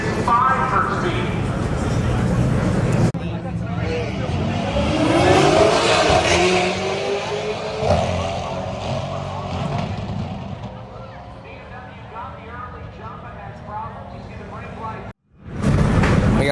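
A drag racing car engine revs and roars at Euro Drag Wars, loud and sustained with rising and falling pitch, while a commentator talks over it.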